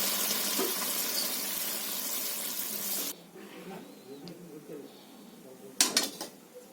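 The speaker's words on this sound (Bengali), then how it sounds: "ঢেলে নেবো তরকারিটা।" Spicy potol fish curry with small brinjals is tipped from a pan into a dish: a dense, loud pouring and scraping rush for about three seconds, then quieter scattered clinks of utensil on dish with a short clattering burst near the end.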